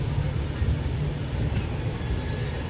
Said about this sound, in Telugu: మన పక్కన ఉన్న ట్రైన్ హీరాఖండ్ ఎక్స్ప్రెస్.